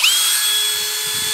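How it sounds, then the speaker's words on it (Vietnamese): A cordless brushless two-function screwdriver drill spins up with a brief rising whine, then runs at a steady high-pitched hum, loud and close, with no talking. "Các bác dùng để bắn vít và khoan nhé."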